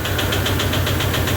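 A Toyota Hilux 2KD diesel engine, damaged by engine oil mixed into its diesel, runs steadily with a continuous low rumble and rhythmic knocking pulses, close and loud with no talk.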